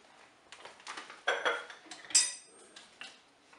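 A spoon clinks and scrapes against a Cookeo multicooker pot while tablespoons of flour go in, producing a handful of light, close metallic taps and clatters at uneven intervals over a quiet background.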